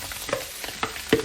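Rice with carrots, peas and curry powder being stir-fried in a wok, with a steady sizzle and a few scraping spatula strokes, close and moderate in level.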